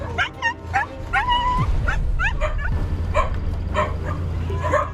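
Dogs stuffed into sacks for illegal sale in Bulacan, Philippines, barking, yipping and whimpering in repeated short bursts, close and fairly loud over a low rumbling background.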